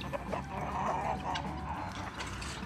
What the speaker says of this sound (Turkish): Birisi horozumuz.